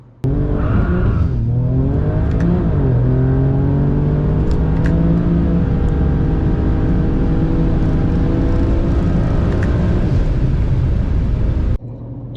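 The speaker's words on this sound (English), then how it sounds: "Yeah, that's some bad clutch slip" Vehicle engine in XHP drag mode with a 6AT transmission and a slipping clutch, revving loud and close in a sustained drone with wavering pitch before cutting off abruptly near the end.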